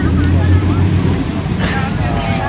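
Strong wind gusts buffet outdoors in a busy setting, a loud, steady low rumble of wind noise across the microphone with faint voices in the background.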